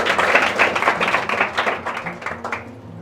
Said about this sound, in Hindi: तो मैम की मेहनत के लिए भी एक बार जोरदार तरीके से तालियां बजाई जाए।